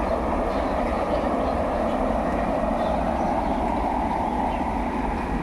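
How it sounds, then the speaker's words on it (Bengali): A train passes in the distance during rain, a steady, even rumble and wash of noise that holds at the same level throughout without any clear breaks. "ওই যে দূরে ট্রেন যাচ্ছে।"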